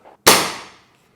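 A single sharp airsoft gun shot fired through an Arduino chronograph cracks once after a soft click, then decays over half a second.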